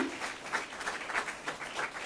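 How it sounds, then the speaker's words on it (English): An audience at an HR session applauds, a steady wash of moderate clapping with slight swells, heard alone without talking. "Can you give a big round of applause for this kind of program"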